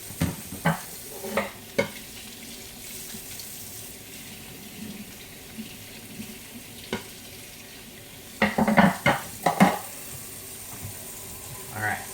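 Beef and onions fry in a pan with a soft, continuous sizzle, broken by several sharp scraping stirs and clatters, some single and one dense cluster near the end.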